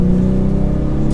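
A 2024 Ford Mustang EcoBoost with a brand-new engine revs while driving, a loud, close, steady drone held around mid revs with a deep buzzy tone and no talk.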